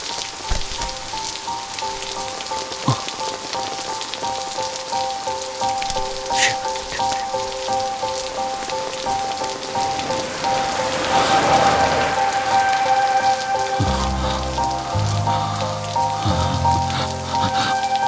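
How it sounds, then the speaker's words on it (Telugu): Heavy rain pours steadily and densely, a constant wash of drops on surfaces that swells louder partway through, with a low rumble near the end. "ఎవరిని అడగలేదు, అది ఇష్టం వచ్చినట్టు కురుస్తోంది."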